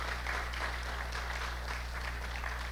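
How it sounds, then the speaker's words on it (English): A club audience applauds at the end of a presentation, with steady dense clapping that holds evenly throughout at a moderate level. "Give him a round of applause"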